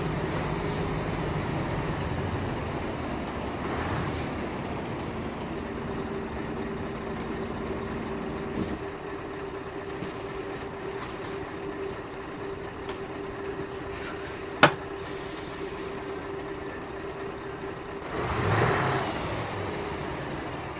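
A truck engine in a video game idles with a steady low rumble that holds for long stretches, broken by a few sharp clicks and a brief swell near the end, with no talk over it.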